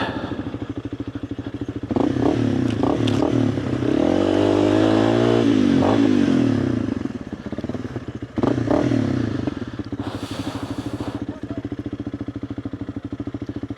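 A motorcycle engine in first gear revs hard, rising and falling with a loud close roar and clattering, then drops back to a rough idle.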